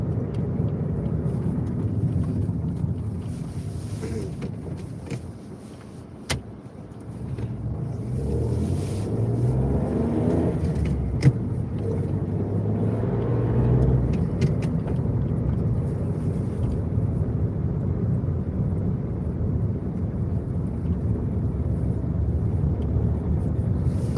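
A car drives along a small road through grassland on a cold, calm day, with a steady, even engine and road rumble that continues throughout and no talk.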